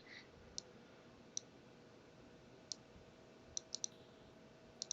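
A computer mouse clicking while a control is selected and resized on screen: about nine crisp, quiet clicks at irregular intervals in a near-silent room.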